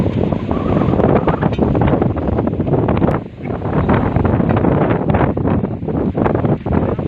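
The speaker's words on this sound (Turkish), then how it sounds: "Rüzgar var tarlada." Strong wind in an open farm field buffets the microphone with a loud, rumbling roar that gusts and eases, dropping briefly midway before surging again.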